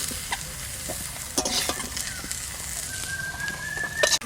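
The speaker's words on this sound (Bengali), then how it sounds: "এঁচোড়টা ভাজা হয়ে গেছে," Young tender jackfruit frying in a pan for village-style biryani and being lifted out, giving a continuous close sizzle broken by sharp clinks and scrapes of the utensil.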